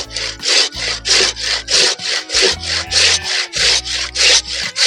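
A handsaw cutting through a large ficus bonsai root in fast, even back-and-forth strokes, about a dozen loud rasping pulls close by, with no talk over them.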